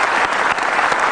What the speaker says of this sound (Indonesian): Kita sudah tepuk tangan.